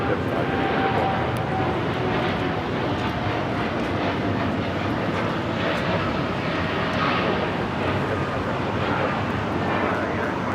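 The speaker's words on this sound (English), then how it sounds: "2723 taking off to Newark on the 787-9 Dreamliner" A United Airlines Boeing 787-9 Dreamliner takes off from LAX bound for Newark, a loud, sustained jet-engine roar that stays steady and broad across the whole stretch without fading.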